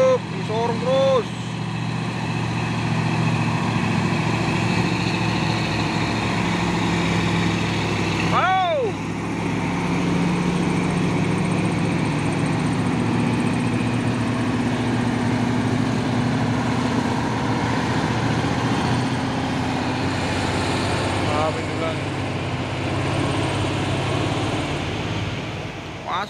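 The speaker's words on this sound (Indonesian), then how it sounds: "Masuk lagi truk USO Orange, pemain 6x4 HD, melewati tanjakan Bukit Kodok di pagi hari." A USO Orange 6x4 HD truck climbing Bukit Kodok hill in the morning, its heavy diesel engine droning loudly and steadily under a voice speaking, with a brief horn-like tone midway.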